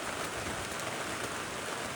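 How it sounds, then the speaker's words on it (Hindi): Heavy rain pours steadily and loudly onto surfaces, a dense, continuous hiss of drops with no pauses and no voices. "तो बारिश बहुत ज़ोर से हो रहा है।"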